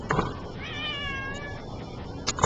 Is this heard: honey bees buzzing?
no